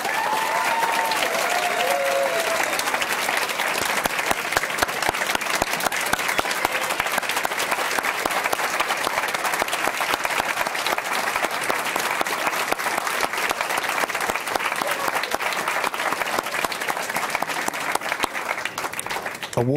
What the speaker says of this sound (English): Can we give all of our awardees a round of applause?